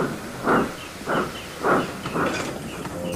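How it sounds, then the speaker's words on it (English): A steam locomotive puffs away along the line in four evenly spaced, hissing chuffs, each a broad burst of steam over a low, steady rumble, with no talking. "As he did, Henry puffed away, silent in admiration."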